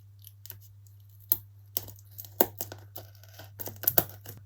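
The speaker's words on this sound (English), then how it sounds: "Cut off the bit you don't need." Scissors cutting off excess paper or fabric for an upcycled picture frame craft, heard as quiet, close, irregular snips and rustles over a steady low hum.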